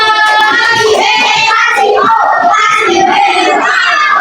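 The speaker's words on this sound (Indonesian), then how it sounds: "Jadi tepuk tangan untuk kelompok 2" A class of primary school children claps together for a group in an Indonesian classroom, a loud, sustained patter of many small hands mixed with excited voices and shouts.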